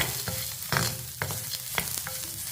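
Onion and peanuts sautéing in a pan give a loud, close sizzle with about five sharp spatula scrapes and knocks at roughly half-second intervals, and no voices.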